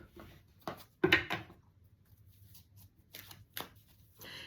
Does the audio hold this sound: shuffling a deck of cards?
yes